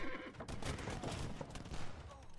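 Bombard cannons firing in the Age of Empires strategy game, a dense burst of sharp booming shots and crackling battle noise, loud and busy over a short stretch, with no clear talk.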